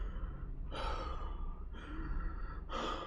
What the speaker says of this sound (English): stop breathing so loud so I can listen